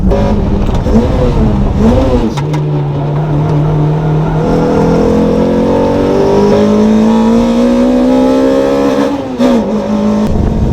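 Race cars at a track day, including a 2ZZ-swapped Toyota MR2 Spyder, accelerate hard with loud, close engine roar rising through the gears in long sweeping pitch climbs, with brief shifts between pulls.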